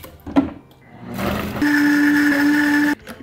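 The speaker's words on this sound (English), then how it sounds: "I'm tossing that into the blender" An electric blender whirs through cherries and plum wine, starting with a rough rising churn and then settling into a loud, steady, even drone for over a second before cutting off abruptly.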